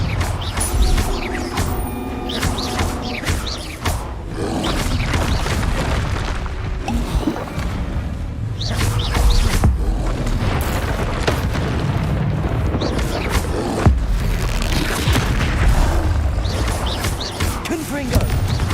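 Video game Confringo blasting spell bursting in repeated booming explosions and crashing impacts over several seconds, with loud, dense blasts layered among chaotic combat effects.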